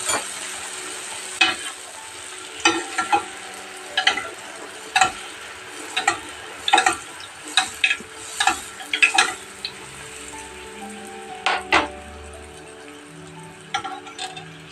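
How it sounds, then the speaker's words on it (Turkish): Pişi dough sizzling and frying in hot oil in a home kitchen, with a steady crackle under frequent sharp clicks and taps from utensils or the pan, fairly close and moderately loud, with no voices. "Yağı ısıttım zaten. Kızartmaya başlamıştım."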